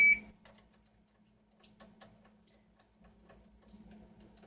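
A kitchen timer, set while homemade caramel corn bakes, ticks steadily and close in a quiet room, starting with a brief beep, and no one speaks.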